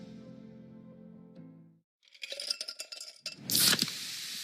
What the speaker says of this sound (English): You hear that? That's the sound of Pepsi Zero Sugar.